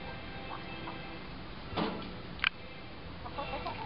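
A hen clucks briefly a couple of times against a quiet background hum, sounding slightly distant.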